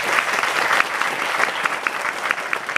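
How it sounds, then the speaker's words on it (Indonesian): Audience applause at a Maulid Nabi gathering in an Islamic boarding school, dense steady clapping from a crowd, continuous and fairly loud throughout. "Tepuk tangan untuk seorang santri."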